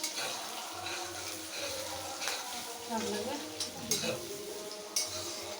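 Onions fry in oil in a pan, a soft continuous sizzle with occasional clinks of utensils against the cookware, under light background activity in a busy household kitchen.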